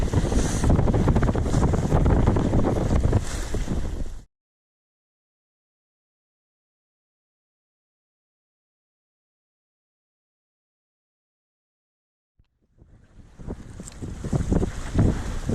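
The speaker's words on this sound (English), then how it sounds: "There's quite a decent westerly wind, force 4, and I think the tide had turned, so it was kicking up quite nicely as we came round." A strong westerly force 4 wind roars across the microphone while a boat sails off Scotland's west coast in choppy water against a turned tide; the rushing noise stops abruptly and later returns.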